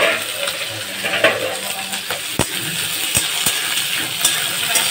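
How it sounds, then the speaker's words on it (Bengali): Vegetables frying in hot oil in a pan for liver fried rice give a steady, close, crackling sizzle, with a few sharp clinks and stirring knocks scattered through it. "এবার আমি সবজিগুলোকে, এই দেখো সবজিগুলোকে আমি এবার ভেজে নেব।"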